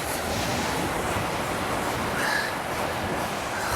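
North Sea surf breaking along the Netherlands coast, a steady broadband wash of waves mixed with wind rumble, continuous and fairly close with no talking.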